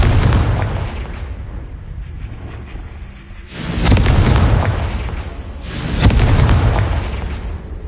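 Confringo blasting spells going off in Hogwarts Legacy: three heavy booming explosions, each a few seconds apart, loud and close. Each blast swells and then rumbles away with no speech over it.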